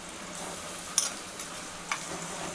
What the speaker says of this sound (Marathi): आता याला लालसर होतपर्यंत अशीच मम्मी घाटत राहील